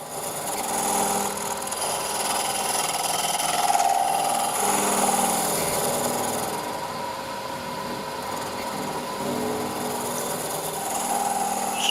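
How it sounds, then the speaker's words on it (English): A shop-made negative rake scraper with a Sorby teardrop end smooths the rough, spalted inside of a wooden goblet on a lathe, giving a steady, continuous scraping rasp over the hum of the spinning machine, no voices. "the tool I've got now is the shop-made negative rake scraper with a Sorby teardrop end"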